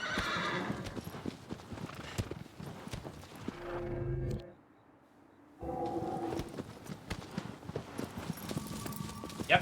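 A horse's hooves clip-clop in a steady gallop and the horse neighs in Shadow of the Colossus, loud and close, with a short quiet gap in the middle and a voice talking over parts of it.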